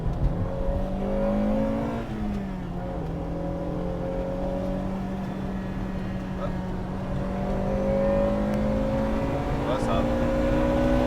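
A Honda Integra Type R engine holds a steady drone from inside the car, with a gear change around two seconds and rising revs toward the end as VTEC comes in.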